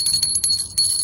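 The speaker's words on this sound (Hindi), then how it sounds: "घंटी बजाओ ना" A small handheld worship bell rings in quick, uneven bursts of bright metallic jingling during Krishna Janmashtami puja at home, loud and close, with no voices over it.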